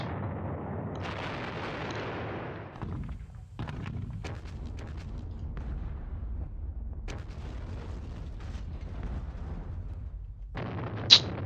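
Artillery fire in the World War II strategy game Battles of Normandy plays as a rolling low rumble broken by scattered sharp cracks and pops, ending on a brief bright burst, all moderately loud with no voices.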